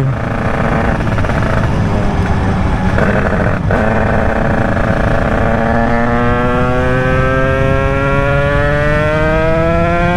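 A 2007 Derbi motorcycle with a tuned 96 cc Bidalot WR engine, only 800 km old, revs hard while riding, its loud two-stroke whine climbing steadily through the gears with rising pitch, continuous and close with no talk.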